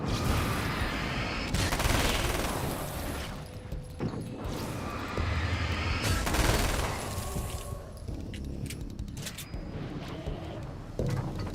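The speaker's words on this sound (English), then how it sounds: "They're just darkness grenades" Darkness grenades go off in Alan Wake's American Nightmare amid a dense, continuous barrage of loud bursts and crashes. Several sharper blasts stand out over the rolling combat noise, with no speech.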